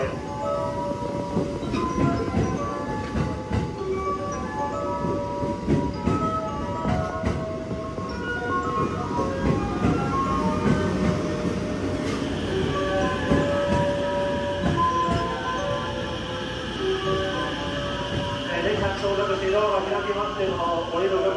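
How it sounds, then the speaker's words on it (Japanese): A 287-series limited express train rolls into Wakayama Station's platform 1 with rumbling wheels and brake squeals, while a Japanese public announcement voice talks over the arrival. "1番乗り場、列車到着いたします。"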